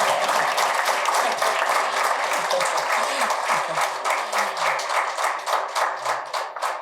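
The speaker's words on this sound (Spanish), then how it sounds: "Entonces vamos a duplicar el aplauso," Sustained applause from a large audience, dense clapping that continues steadily and tapers slightly near the end.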